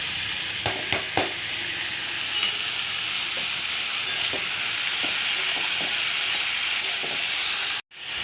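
Pumpkin flowers and potatoes stirred in a frying pan, a steady bright sizzle throughout with scattered scraping taps of the spatula, close and loud, cut off abruptly near the end; no talk.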